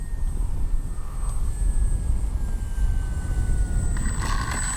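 An RC Kavan Bristell B-23 model plane with flaps set flies a touch and go on a windy day, its small engine giving a steady, droning whine that shifts slightly in pitch, constant and fairly loud throughout with wind noise.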